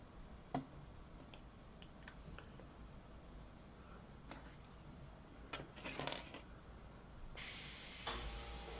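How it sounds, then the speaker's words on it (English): An airbrush loaded with India ink sprays in a steady soft hiss during a test burst, preceded by scattered small clicks and taps; the spray is faint and close, swelling near the end. "always you want to test out your airbrush before you bring it anywhere near your painting"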